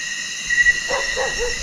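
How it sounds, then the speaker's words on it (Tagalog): A dog's short barks and yelps sound at a moderate distance on a mountain over a steady background hum, a few quick calls in succession. "boses ng aso yan ah"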